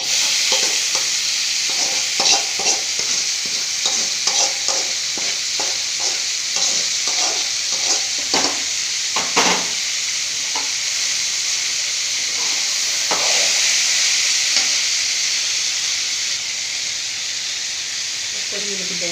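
Broad beans stir-frying in a home-cooking pan give a steady loud sizzle and hiss, with repeated scraping and clacking of a spoon stirring throughout.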